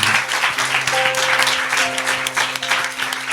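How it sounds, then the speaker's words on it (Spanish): A church congregation applauds during worship, a dense, bright wash of many clapping hands with sustained tones from music or voices lingering underneath, steady and full for the whole length. "Denle un aplauso a Jesús."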